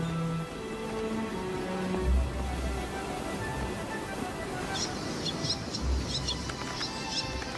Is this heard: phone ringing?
no